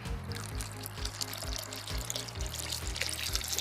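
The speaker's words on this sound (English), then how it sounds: "So I'm just gonna pour it all in." Water poured from a cone onto dirt, a faint steady splash and trickle running for a few seconds beneath a loud rhythmic low hum, with no talk.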